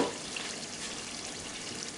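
Alligator étouffée stew simmering in a pot gives a steady, close bubbling hiss with a soft watery sizzle that holds even and unbroken throughout, with no voices over it.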